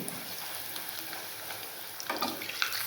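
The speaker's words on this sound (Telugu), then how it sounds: "పూరీలు ఫ్రై చేస్తున్నాను చూడండి" Pooris deep-frying in hot oil, a dense, steady sizzle and bubbling hiss with light crackle that swells into a busier, louder bubbling burst toward the end, close up with no talking.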